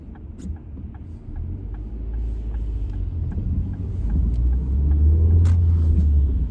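A Ford Fiesta driving and gaining speed, its engine rumble rising steadily and growing louder from inside the car, with faint clicks and no talk.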